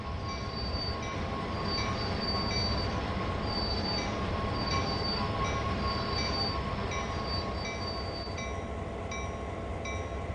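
A GP38-2 diesel locomotive in Train Sim World 2 slowing toward a stop, with a continuous low rumble of wheels on rail and a steady, repeating high metallic brake squeal throughout, no speech.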